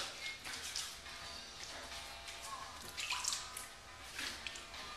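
Faint running water and drips as a Weishi safety razor is rinsed under a tap, a soft steady trickle with light splashes close by.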